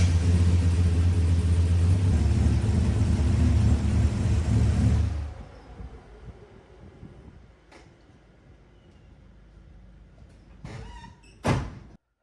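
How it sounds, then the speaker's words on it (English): 1951 Dodge Pilothouse truck with a turbocharged LS swap engine: a loud, steady low rumble runs for about five seconds, then cuts away to quiet background, followed by a few squeaks and a thunk near the end. "I'm gonna go ahead and fire this up, get the coolant circulating through the engine"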